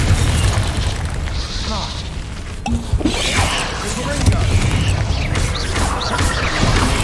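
A Confringo fire spell blasting in Hogwarts Legacy, a fiery burst with crackling whooshes and clanking impacts over dense, loud battle noise, with a voice briefly heard.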